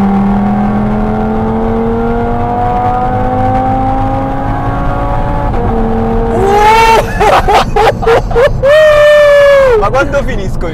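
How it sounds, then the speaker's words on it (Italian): An Audi TT RS, a tuned 600 hp turbo five-cylinder, builds revs with rising engine tones, then roars loudly through hard accelerations and gear changes close up, with voices talking over the drive. "No, è un turbo a 5 cilindri che ha una colonna sonora gloriosa, è gloriosa."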